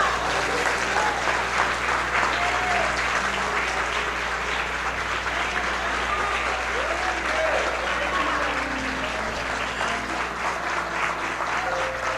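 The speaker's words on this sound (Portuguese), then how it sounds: "Quem pode aplaudir a Jesus por isso?" A congregation applauds continuously during an evening Sunday church service, a thick, even wash of hand clapping that holds its level for the whole stretch.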